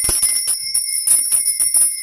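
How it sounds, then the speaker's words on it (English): A bell is rung to cleanse a space, giving repeated bright metallic rings with a clear, sustained high tone. The strikes come quickly and fairly evenly and are heard alone, with no talking. "I'm going to be ringing this bell."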